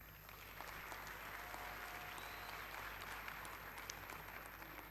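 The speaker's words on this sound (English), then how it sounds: "let's give ourselves a round of applause" Graduates at an international school ceremony clap for themselves in a faint, even wash of applause heard from afar, with a low steady hum beneath it.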